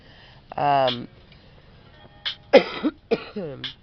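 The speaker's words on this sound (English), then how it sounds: "Sorry about coughing." A person coughs several times, starting with a drawn-out, voiced cough and then a cluster of short, harsh coughs and throat clearing. All are close and loud against a quiet room, with no words spoken.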